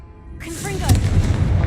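A Confringo blasting spell fires in Hogwarts Legacy: a rising whoosh with chiming sparkles gives way to a loud, close boom that rumbles on to the end, with a voice speaking as it bursts.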